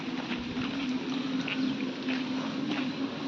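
Heavy rainwater rushes through a drain in a downpour, a steady, dense wash of flowing water with a faint low hum underneath, continuous and fairly close throughout.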